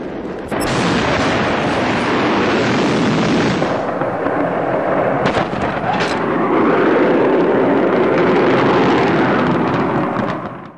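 A huge explosion, slowed down, blows the roofs off houses, a loud drawn-out rumbling roar with a sharp burst near the start and crackling debris throughout, filling the whole stretch before fading.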